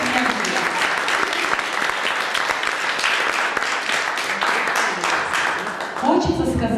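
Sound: audience applause at a school graduation

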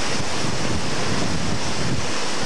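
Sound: water flowing at Seven Falls waterfall, Tucson

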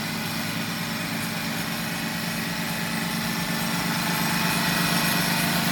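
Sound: soil compacting machine engine running at a farmhouse

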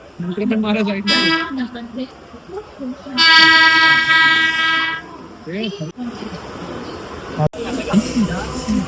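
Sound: local train passing

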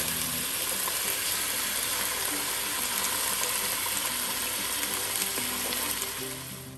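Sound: chicken pieces frying in a pan

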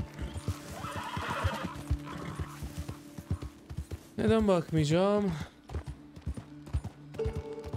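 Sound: horse neighing and hooves, video game

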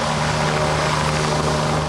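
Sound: police search helicopter flying overhead

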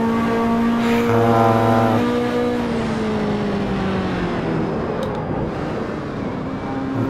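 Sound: Ferrari race car engine in video game Assetto Corsa

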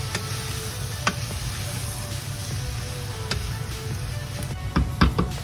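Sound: mashing potato filling with a spoon

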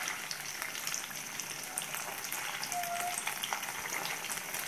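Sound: sardines frying in oil

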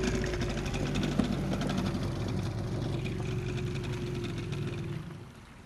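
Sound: motor of a small hydroplane boat still running

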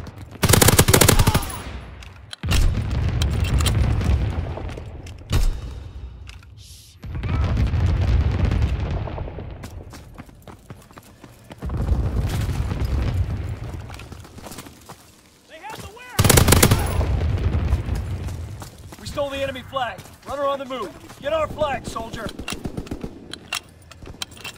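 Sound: anti-aircraft battery firing in the video game Call of Duty WW2

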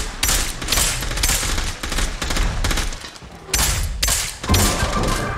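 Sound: gunfire from the video game Scavengers

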